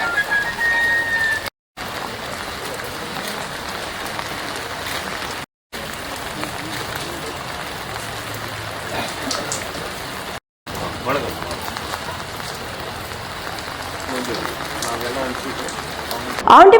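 Heavy rain falling, a dense, constant hiss of drops on surfaces filling the whole stretch, broken by a few short silent gaps, with a news voice over it.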